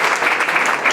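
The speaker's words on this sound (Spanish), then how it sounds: "fuerte palmas para el Señor Jesucristo." A church congregation at the Iglesia de Dios in San Antonio Ixoc claps for Jesus Christ, a short burst of thick, even applause from many hands filling the room at a lively, constant level.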